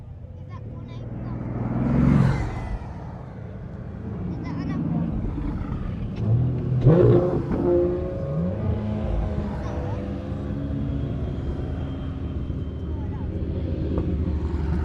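A parade of hypercars rolls past and back down a hill at a supercar festival, engines swelling as each car nears and fades, with people talking over the passing traffic.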